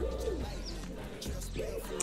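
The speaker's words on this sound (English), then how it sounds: "you can even hear the birds chirping." Birds heard outdoors on a quiet day, giving soft repeated cooing calls like a pigeon or dove along with faint chirps over low background noise, distant and gentle, with no one speaking.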